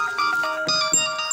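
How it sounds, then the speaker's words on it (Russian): A phone ringtone plays loud and close, a short electronic melody of bright tones rising and falling. "Ответь. Мам, тебе звонят."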